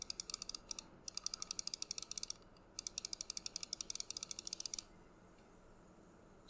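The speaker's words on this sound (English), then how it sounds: "I'll do a short ASMR sound test of all the mouse buttons" Rapid, rhythmic right-button clicking on a Razer Viper Ultimate wireless mouse, dozens of crisp close taps in fast runs with short gaps, then stopping into quiet.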